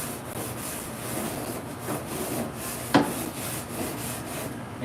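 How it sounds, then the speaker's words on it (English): Scraper rasping crud off a barbecue grill, a steady close scraping and rubbing with one sharper knock partway through and no talk over it. "Getting that crud off there."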